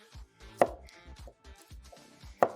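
Two garlic cloves finely chopped for a star fruit curry, about eight sharp, close knife knocks on a board in an uneven rhythm, with no talking.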